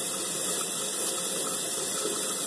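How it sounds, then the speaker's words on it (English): Tap water runs steadily into a bathroom sink during face washing, a close, even hiss and splash that stays constant throughout with no talking. "I'm about to just wash it off"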